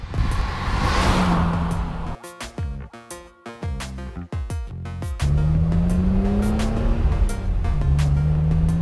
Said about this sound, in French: On a un moteur qui est très souple aussi.